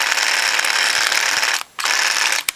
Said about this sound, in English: This motor's only meant to actuate the printer head backwards and forwards.